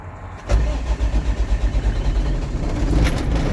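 A diesel truck engine starts after glow-plug preheating on a cold morning: a cranking burst catches into a loud, rhythmic chugging that settles into a rough, steady idle.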